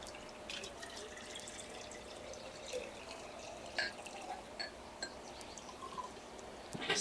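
Water poured into a single vessel at a handfasting ceremony, soft trickling and dripping with small splashes, quiet and close, no talking.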